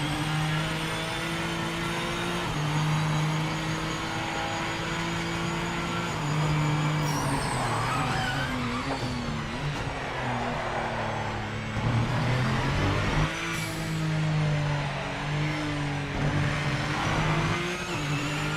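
A race car engine in the video game Project Motor Racing drones loudly and continuously, holding steady revs before shifting and climbing again through gear changes, with no talk over it.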